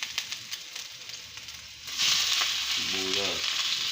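Garlic drops into hot oil in a pan, and a low crackle swells suddenly into a loud, bright sizzle that continues steadily, with a short burst of speech partway through.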